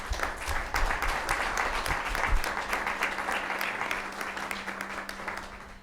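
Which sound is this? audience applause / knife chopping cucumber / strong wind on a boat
audience applause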